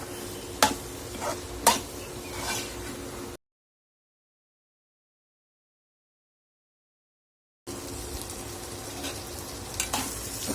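Chopped spiny gourd stir-frying in oil in a pan, a soft steady sizzle with a few sharp scraping taps of stirring. The sizzle stops for a few seconds, then picks up again.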